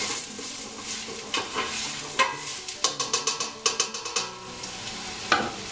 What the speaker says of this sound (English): You also want to throw in the ginger and 4 cloves of crushed garlic. I'm going to stir that around.